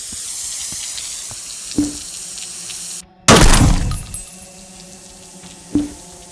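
Water poured in the video game Endless Nightmare 2, a sudden loud gush that splashes and tapers over about a second, with a few soft drips and thuds around it in a quiet scene.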